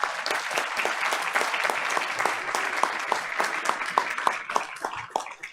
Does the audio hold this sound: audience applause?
yes